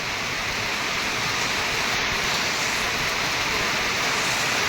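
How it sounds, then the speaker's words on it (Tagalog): Heavy rain pouring down in a dense, constant hiss with no pauses, close and loud. "Lakas ng ulan."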